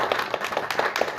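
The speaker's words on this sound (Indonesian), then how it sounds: "Tepuk tangan dong buat Damkar." An audience at a community police gathering with a district police unit in Duri Utara applauds the fire brigade, giving a short, fairly soft burst of scattered hand clapping.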